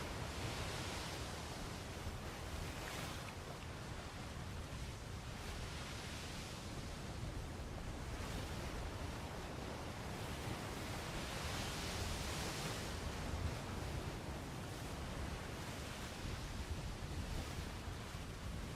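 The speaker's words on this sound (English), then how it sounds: "You at least have a decent amount of wind today." Wind and sea waves in a sailing video game form a steady, broad rushing wash that swells gently in slow surges and carries on unbroken with no voices.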